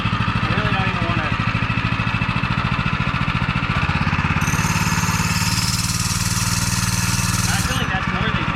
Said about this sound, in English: Alright, this is Sam's first time on a motorcycle